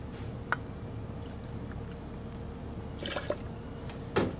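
Lemonade poured into a cocktail comes through as a few soft, brief drips and splashes over a steady low hum, with a small cluster near the end.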